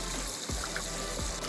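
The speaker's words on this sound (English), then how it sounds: "That is the waterfall / fountain." Water trickles steadily from a DIY backyard waterfall fountain fed by a hose, making a continuous close splashing and babbling with no pauses.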